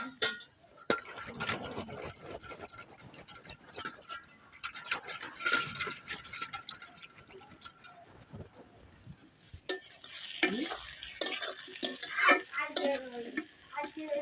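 Ground coriander, cumin and a little turmeric are mixed with water in a bowl for a puti fish chorchori, with a spoon clinking and scraping in quick, irregular strokes, close and fairly quiet.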